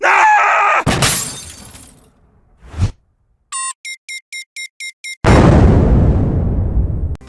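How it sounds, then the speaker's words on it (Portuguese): Short podcast segment jingle packed with effects: a burst of noise, a sharp shattering crash, a series of rhythmic electronic beeps, then a big roaring explosion that slowly trails off, all loud with no talking. "Então vai rodar a vinhetinha do quadro Tiro, Porrada e Bomba e Polêmica"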